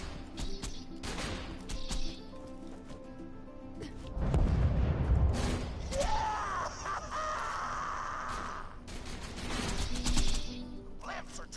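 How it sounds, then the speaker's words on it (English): Borderlands 2 gameplay with a fire weapon firing in sharp bursts, then heavy explosions as the village's scouting blimps are destroyed, followed by crackling blasts and more gunfire; the action is loud and dense. "blow up the village's scouting clips with the fire weapon"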